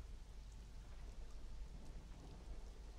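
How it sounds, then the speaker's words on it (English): A thunderstorm in the survival game Conan Exiles, near a waterfall: steady, fairly faint hissing rain with a low rumbling undertone runs through the whole stretch, with no talk. "Lightning is pretty intense here"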